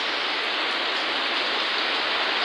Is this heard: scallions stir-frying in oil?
no